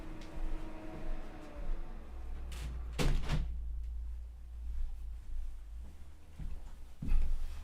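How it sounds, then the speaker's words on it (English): Someone shuts a door in a piano classroom: a sharp double thud mid-clip, followed by a fainter knock later, over a low rumbling background. "I think I'll just shut the door."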